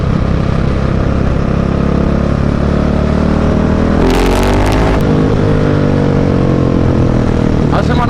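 A 2017/2018 Husqvarna 701 motorcycle with a Mivv exhaust pulls uphill, its loud engine roar climbing through a hard rev rise, with a gear change midway and the pitch rising again afterward.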